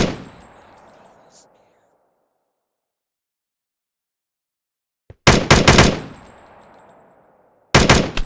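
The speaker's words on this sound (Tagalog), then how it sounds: "Barilin na natin mga Lodi dahil magaling naman mang baril si Cyplace." Two bursts of rapid Minecraft gunfire crack out after a long silence. Each burst is loud and close, and an earlier shot's echo fades at the start.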